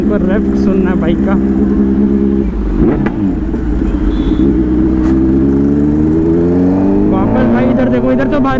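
A Kawasaki Z900 superbike engine revs loudly up close on a roadside, a steady throaty roar rising and falling in pitch over several seconds, with a sharp throttle blip midway and street traffic noise behind.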